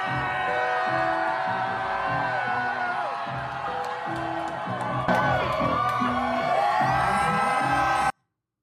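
Large crowd cheering and whooping at a gig in London, loud and continuous, with rhythmic bass-heavy music pulsing underneath and a louder swell midway before cutting off.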